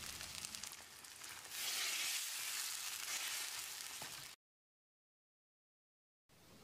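Ground masala paste hits sautéed onions in a pan for tomato kulambu, giving a loud, steady sizzle that swells after the pour, then a cut to silence before a quieter sizzle resumes.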